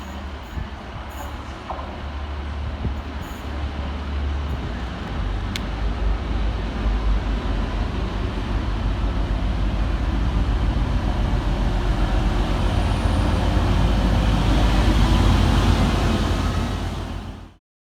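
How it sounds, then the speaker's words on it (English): TransPennine Express unit 185-115 pulls into Dewsbury station on a Leeds to Huddersfield service, a rising diesel rumble and rail roar that builds steadily and stays loud until it cuts off abruptly. "here comes 185-115, working the 1104 Transpennine Express service from Leeds through to Huddersfield"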